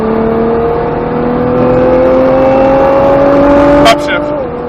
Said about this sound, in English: Start to squeeze on that gas, unwind the wheel to the outside of the track